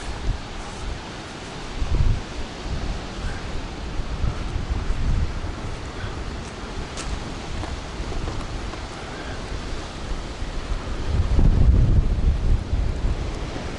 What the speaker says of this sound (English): we've got some strong wind